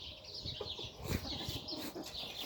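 Hens cluck softly and irregularly, several birds close by over a steady background hiss.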